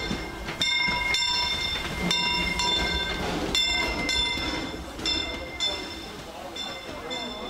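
A Disneyland steam train rumbles and clatters nearby with a steady rolling roar, bright metallic squeals and clanks repeating over the top, and a voice faintly underneath.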